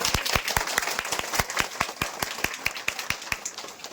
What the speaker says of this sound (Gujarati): બધા આ ભગતને તાળીના ગડગડાટથી વધાવી દે